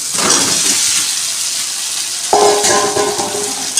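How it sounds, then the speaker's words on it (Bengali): Boiled potatoes drop into hot oil and cooked spice paste for a vegetarian coconut aloo dum, giving a steady loud sizzle and a sharper burst of frying when they go in. "এখন আমি সিদ্ধ করা আলুগুলি দিয়ে দিলাম।"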